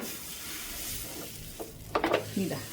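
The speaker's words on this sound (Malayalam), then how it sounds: "അപ്പോൾ അതിലേക്ക് കുറച്ച് മാവ് കോരി ഒഴിച്ചു" Batter sizzling in a small non-stick pan while making chicken roll wrappers, a steady soft hiss with a few brief scraping and spreading sounds near the end.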